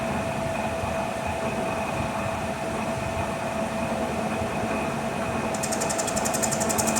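A Monarch 10EE lathe spins its chuck at about 700 RPM with a steady mechanical hum and whine, continuous and even, and a faint ticking rattle joins near the end.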